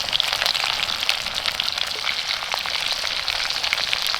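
Onion frying in a pan on a camp stove in a hot tent in snowy winter woodland, a continuous close sizzle with fine crackles and spitting, steady and loud with no talk.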